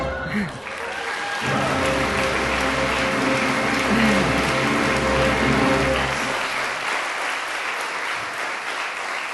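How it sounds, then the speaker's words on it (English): An audience at Tanglewood bursts into sustained applause after the moon landing announcement, the clapping rising quickly to a dense, steady roar and then tapering off near the end. "Applause just like this boomed from the shed"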